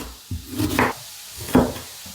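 A few knife chops dicing onion on a wooden board, two clusters of sharp taps separated by a short pause, close and fairly clear.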